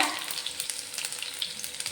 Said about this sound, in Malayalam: ആദ്യം തന്നെ ഇഞ്ചിയും വെളുത്തുള്ളിയും കൂടെ ഒന്ന് മൂപ്പിച്ചെടുക്കുക